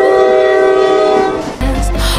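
Roblox Jailbreak train blares a loud, sustained horn, then rumbles past with heavy low clatter as the horn cuts off, all close and loud.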